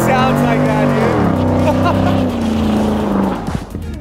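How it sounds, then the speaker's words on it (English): An overland vehicle spins donuts, its engine revving loud and close with a sweeping, wavering pitch that rises and falls, and the roar eases off near the end; voices can be heard over it. "That's great donuts."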